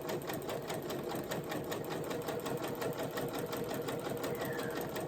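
A sewing machine running a zigzag stitch over butcher twine, a rapid, even mechanical chatter that holds steady and fairly quiet throughout with no pauses.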